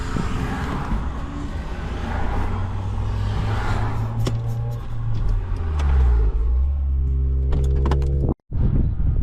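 A car engine hums and shifts pitch as the car descends a hairpin section of a mountain pass road, heard steadily with a passing rumble and a brief gap near the end, no talking.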